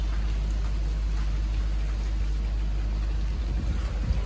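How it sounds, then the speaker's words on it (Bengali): Steady rain pours down outdoors during Cyclone Remal, a dense, even hiss lasting throughout with a low rumble of wind beneath and no voices. "এই দেখো বৃষ্টি কিন্তু পড়েই যাচ্ছে"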